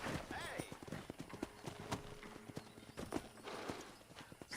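Horse hooves and a whinny in Red Dead Redemption, irregular clopping steps and a neigh close by, with someone talking quietly over them.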